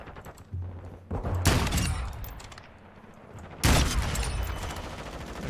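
Gunfire in a first-person shooter video game, two loud bursts of rapid shots about two seconds apart, each ringing out over a low steady background hum.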